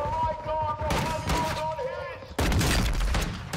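Desert Eagle pistol fire in the video game Warzone comes as loud, sharp repeated shots that shift into a dense burst of gunfire near the end, with a voice talking over it.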